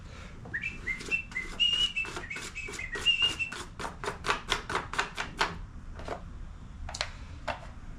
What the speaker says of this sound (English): you can hear them acorns falling. I hope it ain't hurting my new shingles